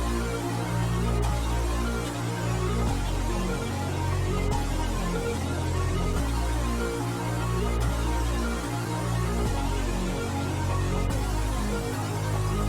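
A trap-style beat built in FL Studio: deep sub bass and a drum pattern under a pitched-down sample, playing continuously and loud with a steady rhythmic pulse throughout.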